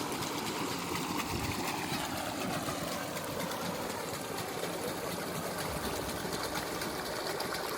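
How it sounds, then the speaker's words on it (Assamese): An amphibious bike's engine runs steadily while the bike moves through a pond, a continuous mechanical drone with splashing water, loud and close throughout. "ৰাতুলে বাইকখন চলাব ৰাতুল ষ্টাৰ্ট"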